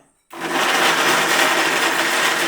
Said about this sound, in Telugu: పాలు యాడ్ చేసుకొని కొన్ని మిక్సీ పట్టుకోనికి ఫస్ట్ మనకి